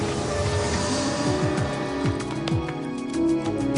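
Cartoon van engine revving and driving off, a steady motor drone with falling and rising tone sweeps and tire-like squeals, continuous and fairly loud.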